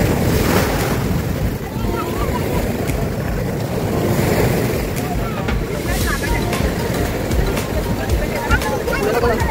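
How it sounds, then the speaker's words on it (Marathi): Big sea waves break at Candolim beach in Goa, a steady, loud, roaring wash of surf with wind buffeting the microphone throughout. "समुद्राच्या लाटा एवढ्या मोठ्या येत होत्या"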